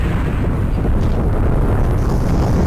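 A heavy, rumbling underwater torpedo explosion from the Archimedean Dynasty submarine combat game fills the whole moment, loud, dense and sustained throughout, with no voices.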